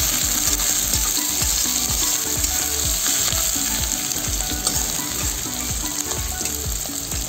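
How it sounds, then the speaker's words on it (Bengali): Finely chopped onions fry in a pan with a strong, even sizzle, punctuated by rapid rhythmic scraping and tapping from continuous stirring, close and loud throughout. "লাল লাল করে ভাজি নেব।"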